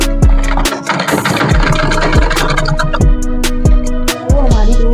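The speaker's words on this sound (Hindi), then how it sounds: "ऐसे सिलाई लगाइए।" A sewing machine stitches a hidden seam on a salwar, its motor whirring loudly and close with a regular rhythmic clicking of the needle mechanism, broken by brief pauses.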